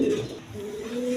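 A silver pigeon sitting on two eggs gives a soft, low coo that rises and holds briefly, faint and close, with no voices.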